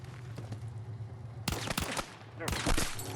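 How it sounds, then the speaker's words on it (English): Gunfire from the video game Battlefield 6 comes as sharp, loud bursts of shots, one cluster in the middle and another near the end, over a low steady game hum with a voice faintly present. "and then you're going to shoot him in the head"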